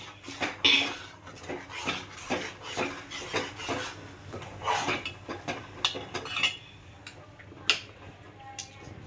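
A spoon scrapes and clinks against a pot while stirring pudding mixture, a rhythmic series of close metallic taps and rubs with a faint voice speaking in the background.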